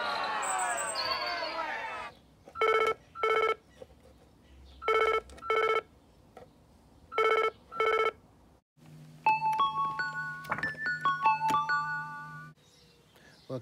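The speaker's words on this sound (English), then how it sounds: "I think Tim's ringing his agent." A telephone rings in four evenly spaced double trills with quiet gaps between them, followed by a run of sharp electronic beeps and tones.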